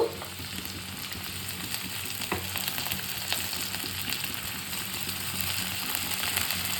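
Onion, green chilli and garlic frying together in a pan, a steady close sizzle with faint stirring scrapes running evenly throughout.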